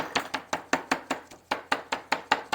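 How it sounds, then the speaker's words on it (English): A meat tenderizer pounds thin slices of round steak cut Milanese-style, about a dozen sharp, evenly spaced thuds in quick succession with no talking. "I take my meat tenderizer"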